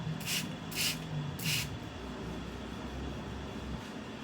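A spray bottle of facial toner gives three quick misting hisses in a row, close and soft, then fades into quiet room noise.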